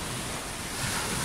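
Steady wash of sea waves breaking on the shore at Gdynia Redłowo, a continuous broadband roar with wind buffeting the microphone, no voices.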